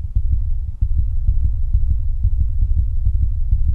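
A heartbeat sound effect in a Christmas-themed Minecraft horror map pulses in a steady, loud, fast thumping rhythm of low throbbing beats, with no talk over it.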